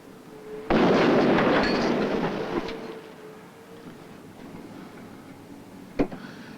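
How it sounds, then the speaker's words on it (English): A simulated earthquake explosion in a demonstration room bursts in loud and booming, rumbling and shaking for about two seconds before fading into a lingering low roar, with a sharp knock late on. "So let's try a slightly more powerful one."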